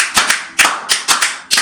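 A church congregation breaks into applause in a few quick, rhythmic bursts of clapping, sharp and close, with short pauses between the claps.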